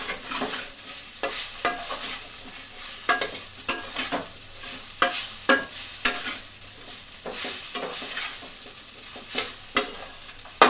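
A spatula scrapes and stirs poha with turmeric in a hot pan, giving repeated close scraping strokes over a steady low sizzle, with no talking.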